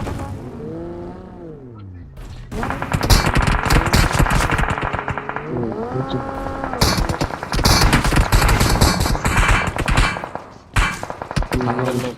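Loud, rapid bursts of automatic gunfire and heavy impacts from a battle royale video game, with engine roar in the mix and people talking over the fight.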